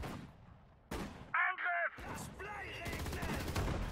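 Sharp bursts of gunfire crack amid a chaotic battle soundscape in the PC game Sudden Strike 4, with shouted German voices and radio-like chatter mixed in.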